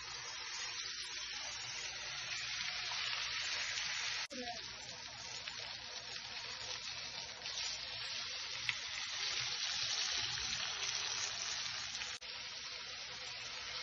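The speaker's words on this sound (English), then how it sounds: "Once the pan is really hot, you can put the meat to sear" Meat searing in a very hot pan gives a steady, even sizzle and hiss throughout, fairly quiet, with a couple of brief clicks.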